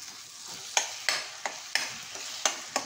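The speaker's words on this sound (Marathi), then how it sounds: "व्यवस्थित आपल्याला परतून घेऊया." Grated ridge gourd stir-fried in masala, a soft sizzle with about seven sharp spatula scrapes against the pan at a steady rhythm, close by.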